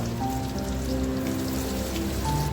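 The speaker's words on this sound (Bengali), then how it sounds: "বাকি যেগুলো আছে সেগুলো আস্তে আস্তে আমি এইভাবে ভেজে নেবো" Egg cheese twist kebabs fry steadily in hot oil, a continuous close crackling patter like light rain, with faint hum underneath and no talking.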